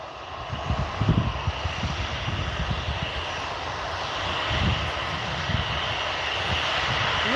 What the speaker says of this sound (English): So this is your EasyJet off to Palma